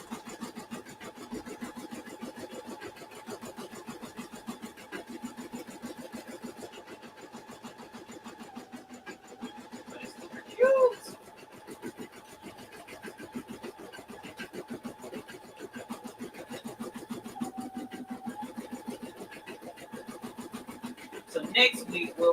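An embroidery machine stitches a patch with a rapid, steady mechanical chatter of the needle that runs throughout at moderate level, with a few brief louder bumps.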